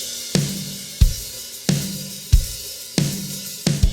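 Live drum kit reshaped by a Cakewalk drum replacer plugin, its kick and snare hitting in a steady groove that sounds punchy, louder and more polished over a bright cymbal wash, with no talking.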